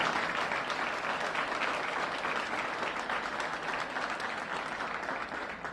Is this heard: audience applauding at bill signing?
yes